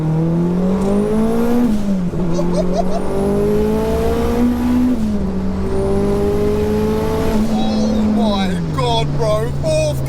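A 630bhp Mitsubishi Evo 2 pulls hard in second gear, its engine note climbing steadily through several loud, near revving sweeps with brief shift dips, heard from inside the car.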